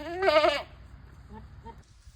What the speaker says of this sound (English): So I've got a couple of our smaller goats in here.